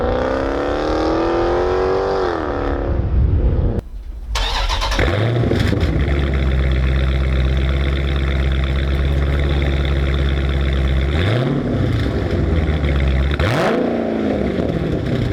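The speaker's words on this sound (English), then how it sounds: "the muffler delete did add a lot of sound to the car, but it also added some raspiness as well" Dodge Challenger ScatPack with mufflers cut off and a straight pipe welded in: the engine cranks and fires with a sharp revving burst, then settles into a loud, raspy, rumbling idle with a couple of throttle blips, close by, no talk.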